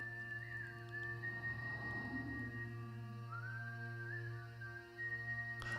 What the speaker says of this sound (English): I like the whistling. I really like the whistling.